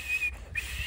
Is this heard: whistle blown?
yes